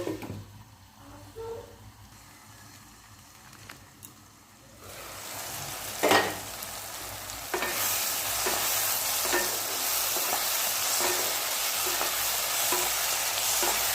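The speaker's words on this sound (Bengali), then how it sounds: "নুন, হলুদ, চিনি, কাজু, কিশমিশ, কাঁচা লঙ্কা, টমেটো সমস্ত কিছু ভালোভাবে ভাজা হোক।" Cashews, raisins, green chillies and tomato frying in a pan with salt, turmeric and sugar, a steady sizzle that swells louder midway and keeps crackling, with a few stirring scrapes and no talk.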